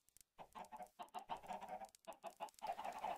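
Minecraft chickens clucking in a repeated burst of short, close calls with brief gaps between them, no voices over them.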